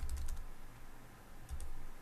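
Rapid keystrokes on a computer keyboard, typing search terms, in two short close bursts separated by a quieter pause, with no talking.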